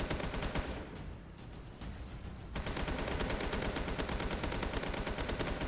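Rapid automatic gunfire in the Roblox War Simulator game while running, dense and continuous bursts of loud shots that dip briefly into a softer stretch before resuming at full intensity.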